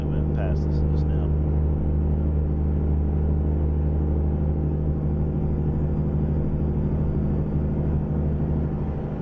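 Truck engine with Z-mods sound running a Cummins N14 in American Truck Simulator, a steady loud low drone and rumble lasting throughout, with a brief higher tone near the start.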